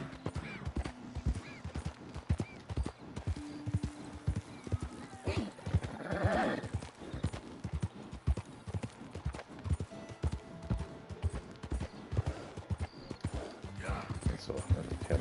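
Horse hooves clip-clopping in a steady trotting rhythm in the Red Dead Redemption 2 video game, with a clear whinny partway through and someone talking intermittently over the hoofbeats.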